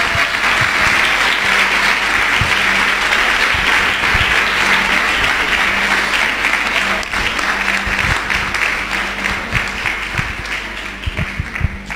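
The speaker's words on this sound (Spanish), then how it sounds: "Un aplauso a Jesucristo por esto." Congregation at a spiritual warfare congress in Argentina breaks into long, loud applause, thick continuous clapping with a few sharper claps standing out, lasting well over ten seconds without speech.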